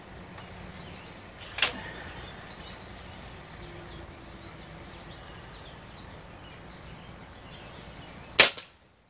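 Two sharp, suppressed cracks from a Benjamin Prowler .22 air rifle fitted with a monocore silencer, well spaced apart with a quiet outdoor background between them.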